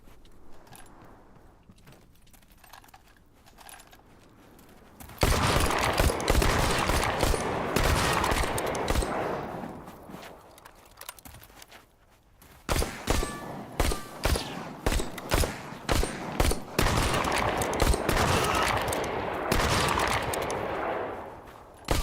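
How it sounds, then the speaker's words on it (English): Gunfire in the video game SAND: Raiders of Sophie comes as dense bursts of rapid automatic shots. It is quiet at first, then loud, sustained volleys from about five seconds on, with a brief lull and then more rapid fire. "He's shooting through my armor."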